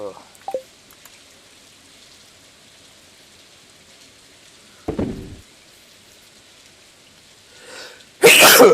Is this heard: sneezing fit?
yes